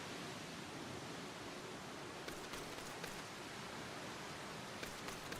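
Steady rain falls in a Final Fantasy XIV: A Realm Reborn game scene, a continuous broadband hiss with a few faint crackles, constant and moderately quiet throughout, no speech.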